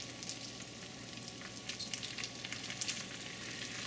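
Leftover rice frying with longganisa in butter, stirred in the pan: a steady, close sizzle with crackling pops and faint scraping, no voices.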